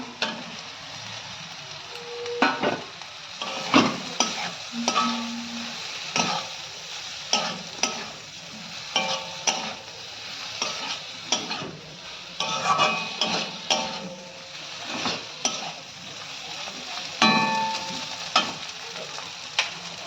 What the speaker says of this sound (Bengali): এবার আমি ভেন্ডিটা দিয়ে দেবো